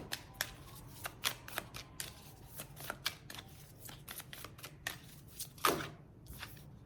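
Tarot cards drawn and shuffled from a deck, a steady run of crisp, closely spaced papery flicks and snaps at moderate volume, heard alone without talk.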